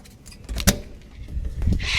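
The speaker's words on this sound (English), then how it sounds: "I just got our keys out of this envelope, which was hanging on our door." A cruise ship cabin key set, taken from an envelope hanging on an interior cabin door on deck 10, jangles in a short metallic burst near the middle, with light handling noise and rustling around it.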